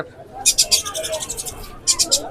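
A lovebird at the Mirpur 13 Bottola bird market gives a quick series of high, thin chirps in two clusters, close and clear, with people talking in the background.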